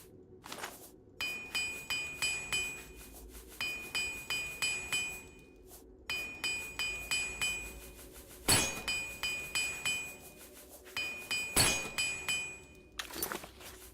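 A repair hammer works on equipment in The Elder Scrolls IV: Oblivion, making bright metallic clinks that come in rapid rhythmic bursts, separated by short pauses and an occasional louder thunk.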